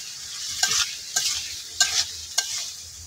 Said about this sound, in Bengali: তো এদিকে আমি যে ডাঙ্গা আলু বেগুন রাখছিলাম, তো সবটি আমি একসাথে দিয়ে নিতেছি।